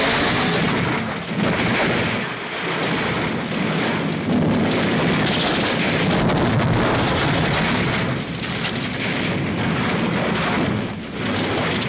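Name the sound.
hearse skidding off mountain road and exploding, film excerpt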